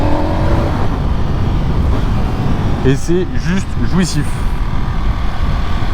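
Ducati Panigale V4 2025 superbike at 216 hp, its engine droning steadily under loud wind rush while ridden, with someone talking over it throughout.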